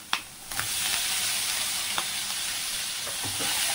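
Paneer fries in butter with onion and capsicum for a spicy restaurant-style curry, a bright constant sizzle broken by sharp clicks and taps of a spatula stirring the pan.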